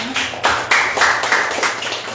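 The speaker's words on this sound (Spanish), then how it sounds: "Vamos a dar un aplauso más." Audience at a young writers' reading during the Holguín International Book Fair gives a short round of clapping after a reading, brisk and fairly close, lasting only a couple of seconds.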